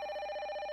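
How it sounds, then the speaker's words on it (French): A telephone ringing in a French children's cartoon, a brief bright electronic ring with a rapid trilling pulse, clear and close, with no one speaking over it. "Le téléphone sonne."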